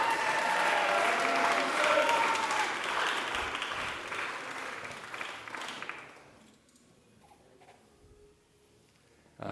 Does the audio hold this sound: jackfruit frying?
no